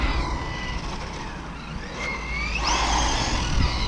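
Traxxas Rally RC car on a 3S battery at full throttle, its high motor whine rising sharply in pitch as it accelerates past, loud and continuous over steady road and wind noise.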